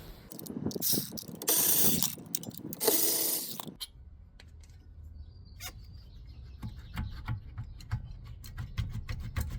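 A wrench works loose the two 40mm brake caliper bolts on the rear of a 2020 Hyundai Palisade, giving a loud burst of ratcheting clicks up close, followed by quieter scattered clinks and ticks of tool handling.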